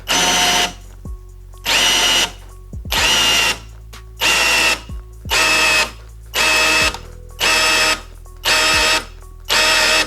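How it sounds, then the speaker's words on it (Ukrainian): A Vitals Professional AU 1860Pbt BS SmartLine cordless drill-driver whirs loudly in about nine short bursts, each cutting out abruptly as overload protection trips, with brief pauses between them, close and without talk. "Оп, шуруповерт уходить в защиту."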